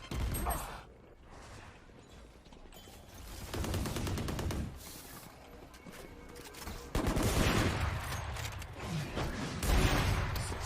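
Bursts of gunfire in a shooter video game: rapid volleys and single shots come in loud clusters, with brief lulls between them, and stay close and continuous for about ten seconds.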